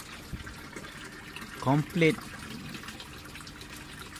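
Water flushes steadily down through a cascading flood-and-drain gutter grow bed setup, a constant wash and trickle running throughout with one brief spoken word partway in.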